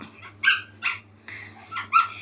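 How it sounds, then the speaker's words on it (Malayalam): A dog perched on a house rooftop barks in a few sharp, separate yelps with short gaps between them, fairly near and clear over a quiet low hum. "ഇപ്പോൾ കാത്തുവിനെ ആദ്യം കണ്ടുകൊണ്ട് ഒരു കുരയ്ക്കുകയാണ് കണ്ടോ പെരയുടെ മണ്ടയ്ക്ക് കയറിയിരിക്കുകയാണ്"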